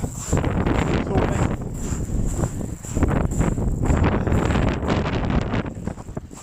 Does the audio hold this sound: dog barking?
no